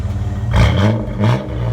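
Two quick, throaty blips of the throttle rise from the idling 4.3L V6 of a '98 GMC Sonoma running a Flowmaster Super 10 exhaust. The truck is close and loud, with no talking.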